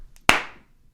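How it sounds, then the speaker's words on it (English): A single sharp hand clap marks the sync point for a new camera and microphones. One crisp, close snap rings out briefly against near silence. "Go ahead, clap."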